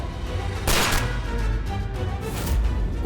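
A few sharp gunshot cracks ring out, one loud blast followed by fainter reports, over a low rumbling background.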